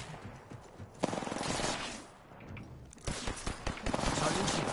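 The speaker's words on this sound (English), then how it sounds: "They're shooting at me." In the video game Apex Legends, bursts of automatic gunfire crack in rapid volleys, some close and sharp, others duller, with quiet gaps between and faint voice sounds mixed in.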